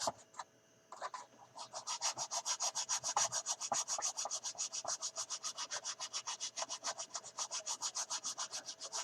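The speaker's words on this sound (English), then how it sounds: "Sand that lip out of there" Sandpaper rubbing a molded lip on a 1/72 Airfix Short Sunderland plastic model kit, steady rapid back-and-forth strokes in an even rhythm, close and continuous for several seconds.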